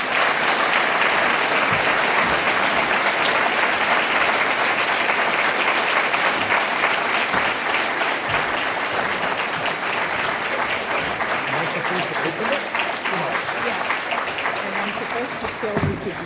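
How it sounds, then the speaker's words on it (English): A large audience at a UHN annual meeting claps in a loud, sustained round of applause that holds steady throughout, thick and continuous with a faint murmur of voices mixed in. "I hope that you will give him a round of applause"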